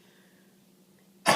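After a nearly silent stretch with a faint low hum, one sharp, loud cough bursts in close to the microphone at the very end.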